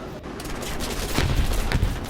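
Rapid machine-gun fire from an aircraft in the War Thunder video game, shooting at a Bearcat fighter: a dense, loud stream of bursts over engine roar, growing heavier toward the end.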